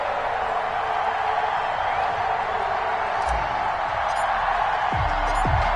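Stadium crowd noise from EA Sports Madden football, a Dallas Cowboys versus Kansas City Chiefs matchup, forms a steady, loud roar of cheering that runs through the whole stretch with a few brief thumps near the end.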